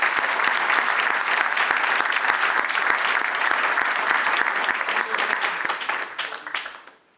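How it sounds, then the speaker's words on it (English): An audience at a global poverty and development event gives a sustained round of applause, dense and steady, tapering off toward the end. "let's please give all of the members of the Center on Global Poverty and Development a big round of applause"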